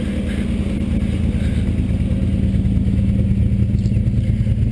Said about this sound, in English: It's really a very nice, smooth running motor.